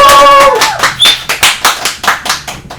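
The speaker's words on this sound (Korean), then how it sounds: "응원의 박수 소리가 정말 크네요." Studio audience clapping in a live broadcast, a loud burst that quickly settles into a rhythmic series of about ten sharp, evenly spaced claps, with a brief tonal sound at the start.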